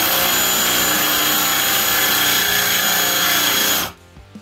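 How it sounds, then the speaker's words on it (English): A Ryobi One+ PBLDD01 cordless drill spins a big bit at speed 2, a loud, steady high-pitched motor whine held for nearly four seconds before cutting off abruptly, leaving near silence. "speed 2 is very fast for a big drill bit like this"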